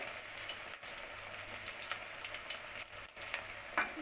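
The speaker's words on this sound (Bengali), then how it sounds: "আস্তে আস্তে করে তোমাদের ভাজতে হবে লাল লাল করে ভাজাটা হবে" Semolina and boiled potato snacks fry slowly in oil until they turn red, making a quiet, even, crackling sizzle that lasts the whole time, with a few soft pops and one brief clink near the end.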